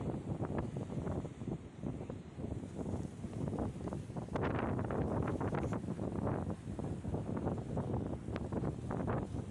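Steady, strong wind roars and buffets the microphone throughout at an outdoor dirt jump park in Rapid City, with rustling gusts and no voices.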